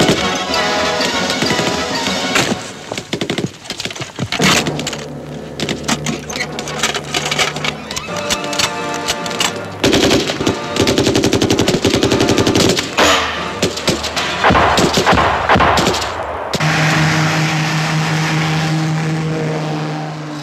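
Rapid machine gun bursts and gunfire from a Dutch film made for the 300th anniversary of the marines, loud and dense throughout, with mechanical rattling and a steady drone, no talk.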